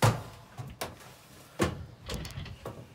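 A toolbox drawer in a welding trailer slides and knocks open, giving a series of clattering thumps and scrapes of metal over about three seconds, close by and with no talking.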